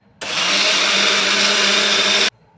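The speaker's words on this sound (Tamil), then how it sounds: "இந்த மிக்சிங்கோடு சேர்த்து நான் ஒரே ஒரு லைட்டாக ஒரு அரவை அப்படி அப்படியே மிக்ஸ் பண்ணி எடுத்துக்கிறேன்" A mixer grinder runs in one short, loud burst of about two seconds while blending baby food, a dense whirring roar that starts and stops abruptly, with no speech.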